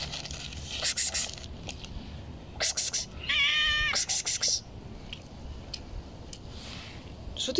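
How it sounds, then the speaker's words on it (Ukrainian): A cat gives one clear, drawn-out meow of about a second, close up in an indoor room, with bursts of wrapper rustling and scraping before and after it, while people talk quietly nearby. "Кіт, ти де?"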